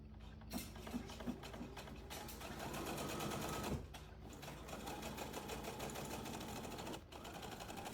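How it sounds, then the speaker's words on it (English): A sewing machine stitches close along the edges of a golf club headcover, its needle chattering in fast, steady mechanical bursts with brief pauses between runs, close and clear. "I'm going to sew all the way on around the edges, and I do it pretty close"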